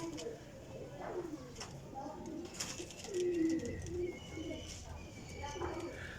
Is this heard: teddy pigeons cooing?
yes